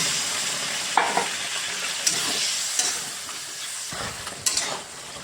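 Pointed gourd (potol) with poppy seeds and mustard sizzles steadily in a pan after a little water is added, with a soft, continuous hiss and occasional sharp clinks from stirring.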